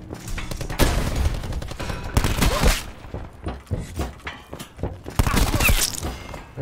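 Bursts of gunfire in a Call of Duty: Black Ops 4 multiplayer match, loud and close, arriving in uneven clusters of shots and rattling automatic fire with short gaps between them.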